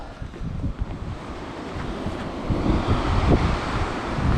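Sea waves on a snowy winter beach in Sudak, Crimea roll in as a continuous, muffled surf wash, heavily mixed with gusting wind noise on the microphone, no voices.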